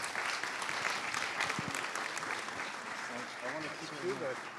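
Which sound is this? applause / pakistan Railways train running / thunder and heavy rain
applause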